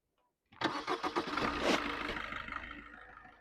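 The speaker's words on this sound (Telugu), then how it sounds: "సింగిల్ సెల్ఫ్లో బండి స్టార్ట్ అవుతుంది" A 2017 Maruti Suzuki Dzire ZDi+ diesel engine fires up on a single self-start crank, then settles into a steady, rattling diesel idle, recorded close with no talking.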